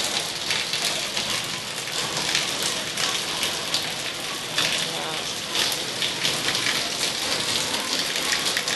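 Heavy rain pours steadily on surfaces outside an office during bad weather, a dense unbroken hiss that stays loud and close throughout with no pauses.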